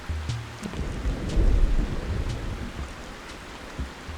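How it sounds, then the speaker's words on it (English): Thunderstorm rain in the video game Animal Crossing: a steady wash of rainfall with a low rumble of thunder swelling in the middle, no voices over it. "Rain is hard to hear."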